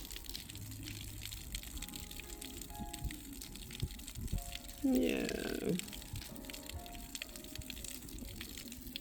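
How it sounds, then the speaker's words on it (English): Rainwater pours off a newly roofed house in Ghana during a rainy-day roofing test, a brief gushing splash rising out of quiet background noise midway through, with a person speaking briefly nearby. "And the water just coming on down."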